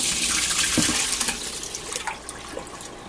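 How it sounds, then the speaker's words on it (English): Vegetables are swished around in water to rinse them for homemade relish, giving a close, bright rush of splashing and running water that churns steadily, then eases toward the end. "we're going to rinse them, swishing it around in some water"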